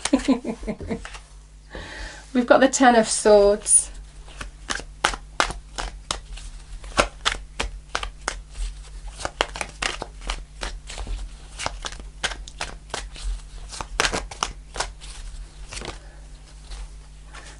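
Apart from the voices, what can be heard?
shuffling tarot cards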